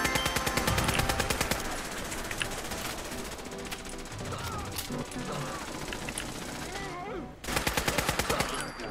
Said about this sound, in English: People are really dumb to be shooting me on sight.